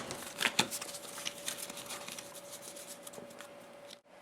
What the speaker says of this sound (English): Let's shuffle up the cards.